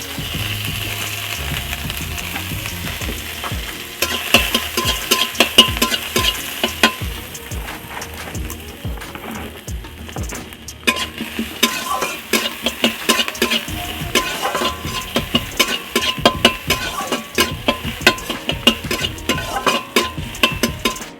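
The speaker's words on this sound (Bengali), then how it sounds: "কড়াতে পেঁয়াজ কুচানো দিয়ে দিচ্ছি আর এখন আমি তেল দিয়ে দিচ্ছি" Chopped onions fry in oil in a wok, sizzling steadily up close while a utensil stirs and scrapes against the metal in quick, repeated strokes, with no talking.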